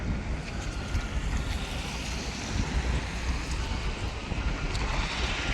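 Wind rushes steadily over the Thames below London Bridge, a dense broadband roar with low gusty rumble and faint water movement, no voices.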